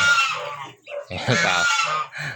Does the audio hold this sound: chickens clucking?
yes